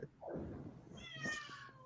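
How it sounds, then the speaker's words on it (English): A cat meows twice indoors, close and fairly quiet, the second call rising into a higher, drawn-out tone. "that's why he's meowing"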